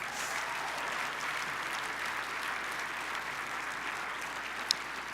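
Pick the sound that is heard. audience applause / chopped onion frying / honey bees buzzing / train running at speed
audience applause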